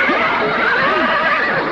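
A horse whinnies loudly and continuously in an Indonesian audio drama, a wavering high neigh with a full, close sound and no pauses.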